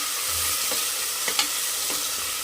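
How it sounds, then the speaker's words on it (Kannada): Chopped tomato frying in a pan, a steady close sizzle with a few soft scraping stirs of the spoon, no voices. "ಇದನ್ನು ಅಷ್ಟೇ ಚೆನ್ನಾಗಿ ಫ್ರೈ ಆಗಬೇಕು ಇದು ಸ್ವಲ್ಪ ಫ್ರೈ ಆಗ್ತಿದೆಯಲ್ಲ"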